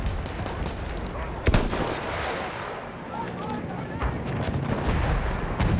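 Enemy machine gun fire in a war video game rattles in bursts amid booming explosions and battle noise, loud and dense, with a player talking over parts of the action.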